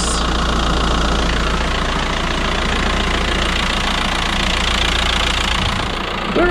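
A VW Transporter van engine running at a steady idle after a service, close and constant, with a low, even rumble and faint mechanical ticking throughout.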